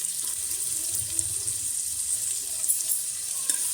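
Finely chopped medium onion frying in hot oil in a home kitchen pan, a steady soft hiss and crackle of sizzling under faint stirring and clinks, close and continuous with no talk.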